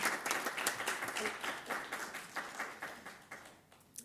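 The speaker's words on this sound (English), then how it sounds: "the clapping is awesome" Audience clapping at a school governing board meeting, a sustained round of applause from many people in a hall, fairly loud and fading out near the end.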